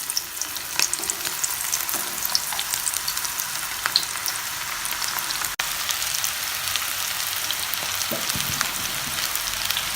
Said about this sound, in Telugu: ఈ నూనె వేడెక్కిన తర్వాత ఆ శనగపిండి ముద్దని చేతితో తీసుకొని పొడి పొడిగా వేసుకుంటూ వేయాలి